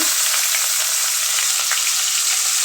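Chopped onions hitting hot oil for a pumpkin posta paturi dish, giving a loud, steady hiss of frying that holds unbroken throughout, close and without any voices.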